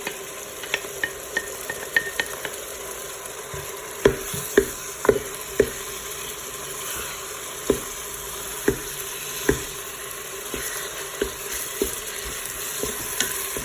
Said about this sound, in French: Ensuite, je vais mettre ma viande hachée.